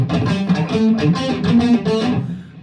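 An electric guitar plays a choppy, funky riff in short rhythmic bursts, loud and close, with no voices over it.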